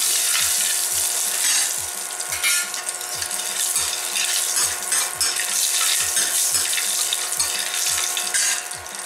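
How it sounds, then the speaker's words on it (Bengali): Mustard seeds and dried red chilies temper in hot oil with a steady, loud sizzle, broken by regular low thumps as the spoon stirs them through the pan. "সর্ষে আর শুকনো লঙ্কা ফোড়ন দিয়ে দিলাম"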